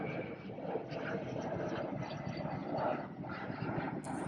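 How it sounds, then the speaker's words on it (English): Airplanes fly over the US Capitol area, a steady loud broadband engine roar that holds throughout with no talking, rising slightly near the end. "I'm sorry if you hear all these airplanes and shit."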